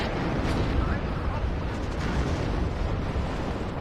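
A ZIS-2 anti-tank gun fires in the WARNO video game, a dense, heavy blast and rumble filling the whole stretch, loud and sustained, with a voice talking over it.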